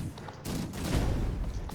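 A unit of Ironcap Arquebusiers in a strategy video game fires a firecracker volley, giving a dense crackling burst of overlapping pops and bangs that rolls on steadily for nearly two seconds.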